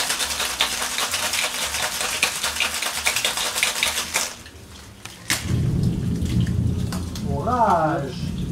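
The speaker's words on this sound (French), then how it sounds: "Orage." A thunderstorm pours heavy, dense rain at first. After a brief lull, a deep, loud thunder rumble rolls in, and a short voice sound appears near the end.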